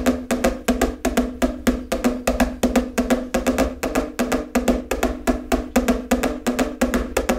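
Quick, even open double strokes on a drum or practice pad, pairs of crisp taps repeating in a steady, driving pattern with no talking.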